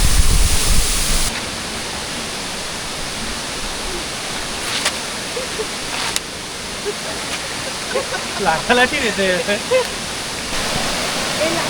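At Changey Falls in the Dooars, a waterfall stream pours steadily as a loud, continuous broadband rush, with a voice talking over it in places.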